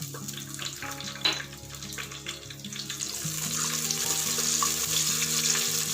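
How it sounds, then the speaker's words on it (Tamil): Vadagam and fenugreek seeds frying in hot sesame oil give a steady close crackling sizzle, with bubbly, watery-sounding spatter that builds slightly louder toward the end. "நல்லா பொரியட்டும்."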